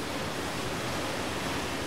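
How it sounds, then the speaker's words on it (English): Giant waterfall in the video game Outer Wilds, a steady broadband rushing roar that holds unbroken and fairly loud, with no voices. "Giant waterfall."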